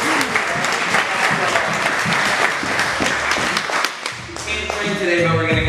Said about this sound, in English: we're gonna give a round of applause